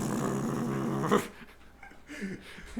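A puppy growls in a low, rumbling, sustained stretch lasting about a second, then falls quieter, with softer snuffling sounds after it.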